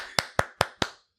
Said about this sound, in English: Brent is clapping